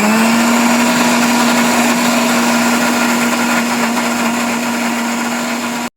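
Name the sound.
mixer grinder blending ragi milkshake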